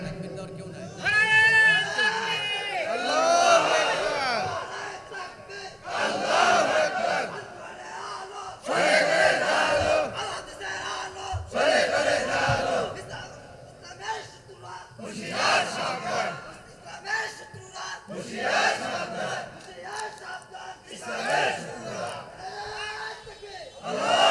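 A crowd at an Islamic sermon shouts the takbir in loud, repeated collective bursts, each roar rising and fading, with the preacher's voice leading in between the chants.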